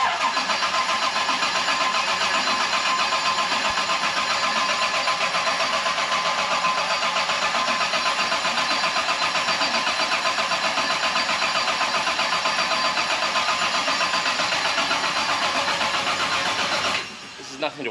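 Car engine turning over and running steadily after the oil cooler was refilled on a turbo kit, a loud continuous mechanical drone that holds for most of the stretch before cutting off near the end.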